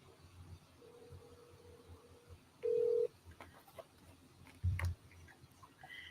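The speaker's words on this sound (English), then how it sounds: "Let's see if we can get Dara on by phone here a minute" A telephone dial sequence on a news broadcast line, with a brief steady tone, a short louder beep and a couple of low clunks against faint hiss, no talking.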